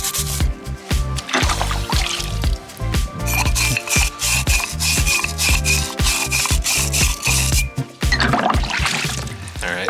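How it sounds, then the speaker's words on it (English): A steel bristle brush scrubs an SR20DET turbo air inlet with rapid, rhythmic, gritty rasping strokes, loud and close, with no voices. "so I'm going to switch now to the steel bristle brush and give that a go"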